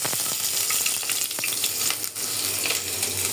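Vegetables brought from the village sizzle and crackle in a pot over a kitchen stove, a steady close frying hiss broken by occasional sharp pops and stirring scrapes, with no talking.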